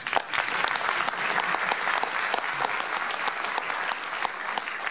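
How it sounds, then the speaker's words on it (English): An audience applauding steadily, a dense patter of many hands clapping at close range without a break. "You can clap."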